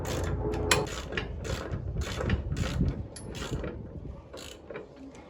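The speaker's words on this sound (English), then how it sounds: "We'll tighten the bottom one up now" Ratchet clicks and metal-on-metal rattling from tightening the bottom spindle bolt on a Yerf Dog go-kart, a steady close run of fast mechanical clatter with sharper bursts, no talking.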